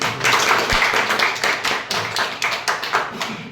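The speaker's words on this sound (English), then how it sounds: "So give him a huge round of applause." Applause from the audience at a debate on the dowry system, a burst of many hands clapping, loud and close, continuing steadily and then thinning slightly toward the end.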